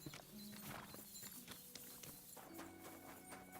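Horse hooves clip-clop at a steady walking pace in the medieval game Kingdom Come: Deliverance 2, with a brief whinny and faint game ambience and music behind the hoofbeats; no one talks.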